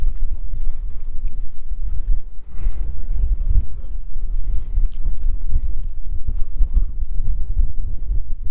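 Soft, steady padding footsteps of a camel walking on sand in Morocco, accompanied by low rumbling wind noise, with no talking.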